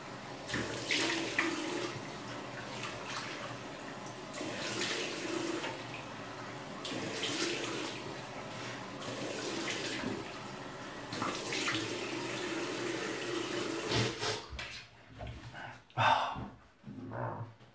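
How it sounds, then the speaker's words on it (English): Cold tap water runs steadily into a sink while shaving lather is rinsed off, a continuous close splashing flow with brief interruptions, ending in a few uneven splashes and drips. "I'm just going to rinse this off with cold water."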